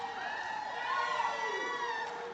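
A crowd of 1980s-era classmates cheering at an all-school reunion in Waynoka, a steady sustained roar of many voices with shouts layered on top, fairly distant and filling the whole moment.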